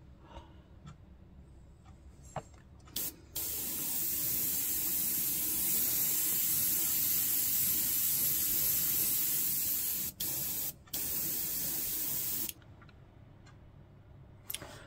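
Airbrush or spray can hisses a light dirt weathering coat onto a 1/24 scale Miniart German D8506 model truck, with a few short taps of spray followed by one long steady burst broken by brief gaps.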